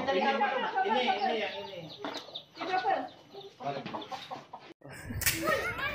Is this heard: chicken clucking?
yes